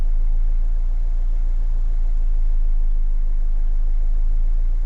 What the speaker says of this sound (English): Interestingly, the engine sounds quite nice at low concentration.